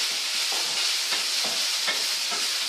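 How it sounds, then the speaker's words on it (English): Vegetables for a spinach zucchini frittata sizzle steadily in a pan, with a spoon scraping and stirring in about five regular strokes. "Stir the vegetables up."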